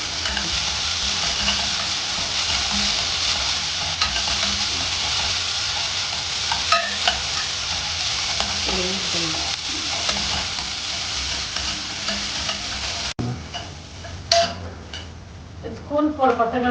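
Star gooseberries sautéing in a pan give a steady close sizzle, with occasional utensil clicks and stirring taps, and a voice talks intermittently over the frying.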